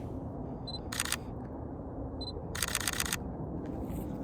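Two bursts of rapid single-lens reflex camera shutter clicks fire in quick succession outdoors on a hillside photo walk, each burst lasting about half a second, with a faint electronic beep before each and steady background ambience.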